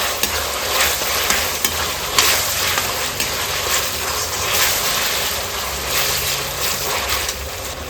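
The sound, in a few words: cornflour water added to sizzling chilli chicken pan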